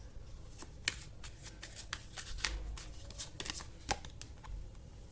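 Tarot cards drawn and shuffled from a deck, a run of crisp, quick riffling flicks and snaps, close and fairly quiet, with no voice over them.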